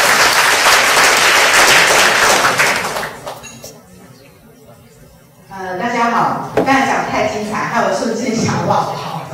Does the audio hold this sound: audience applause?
yes